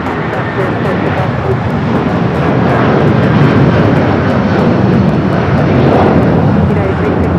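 An airliner roars down the runway on takeoff at LAX, a loud, broad, steady jet rumble that swells slightly, with radio chatter from air traffic control audible over it.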